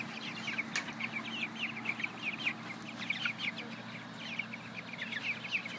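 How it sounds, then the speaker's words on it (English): Chickens cluck in a busy, overlapping chorus close by at a farm watering trough fed by an automatic bell waterer, with steady low background hum and no talk. "here come the chickens figuring out what's going on"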